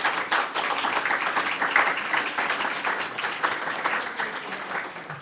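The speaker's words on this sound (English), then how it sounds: "let's give a round of applause for all of them." An audience at a writing program event breaks into sustained applause, a dense wash of many hands clapping that holds fairly steady for several seconds with no talk over it.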